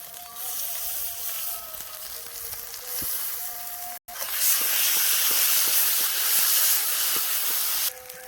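Ginger garlic paste hits hot oil in an outdoor village kitchen while cooking a spicy fish curry, giving a loud, steady sizzle and hiss that briefly cuts out, then returns fuller and harsher.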